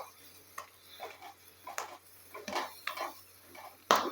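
Curry leaves crackle in hair oil simmering gently in a pan, giving scattered soft pops and crackles at an irregular pace, with one sharper snap near the end.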